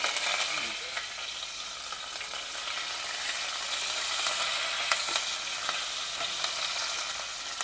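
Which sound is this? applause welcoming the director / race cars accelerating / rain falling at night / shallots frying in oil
shallots frying in oil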